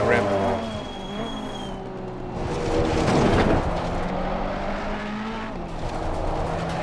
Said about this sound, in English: Look at this drift. Look at this. Drifting all over the place.